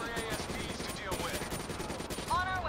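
Gunfire in Call of Duty Black Ops 3, a rapid stream of close shots rattling for a few seconds, with game voices and effects mixed underneath.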